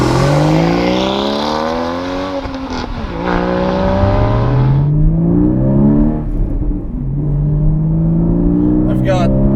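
A Porsche Cayman 981 GTS engine accelerating in sport mode, loud rising revs climbing through gears with shifts between pulls, heard from inside the car.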